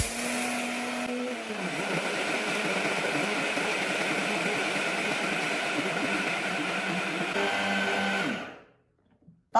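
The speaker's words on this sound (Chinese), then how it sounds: "盖上盖子，用破壁机给它打碎。" High-speed blender grinding dry mung beans under a closed lid, a loud steady whirring roar with a gritty rattle that runs for several seconds, then cuts off abruptly into near silence.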